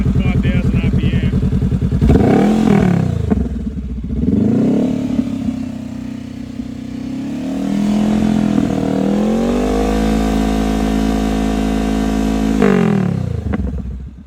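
A Honda CB500X adventure motorcycle engine with an aftermarket exhaust, its DB killer removed, revs hard toward 5,000 RPM. It gives a loud, close, sustained roar with repeated rises and falls in pitch and no voices over it.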